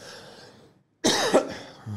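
A single sharp, close cough bursts out after a brief silence, following some low background sound.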